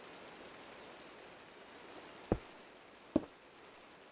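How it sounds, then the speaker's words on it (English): Rain falls in the Minecraft Pixelmon video game as a faint, even patter, broken by two short sharp ticks partway through, with no one talking. "What's that noise? It's raining."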